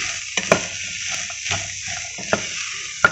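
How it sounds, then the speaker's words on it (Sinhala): Homegrown green beans frying in oil over low heat, a steady close sizzle broken by several sharp scrapes and clinks of a spoon stirring the pan, no voices. "මේ විදියට අඩු ගින්දරේ හැඳි ගාමින්"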